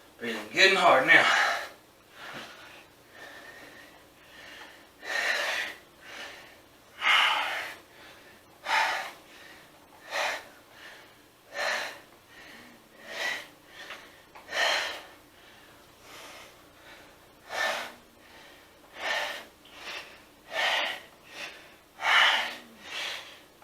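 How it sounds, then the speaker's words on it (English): Heavy, hard breathing after a leg and back workout: repeated loud gasping exhales and inhales in a steady rhythm, close to the microphone and with no talking. "Breathing good and hard now."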